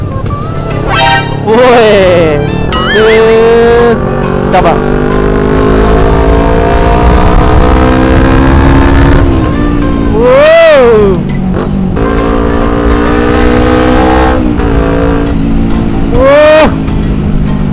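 A modified Kawasaki Ninja 250 sport bike engine revs hard, its pitch rising and dropping through several loud high-revving sweeps, with short blips between them, close and dominant while a rider speaks briefly over the engine.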